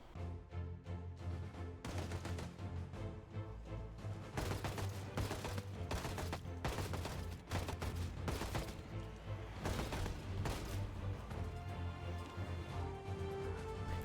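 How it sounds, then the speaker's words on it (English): Gunfire in Project Zomboid comes as a dense, sustained barrage of loud, rapid automatic shots and booming reports, continuing almost without pause. "let the bullets fly"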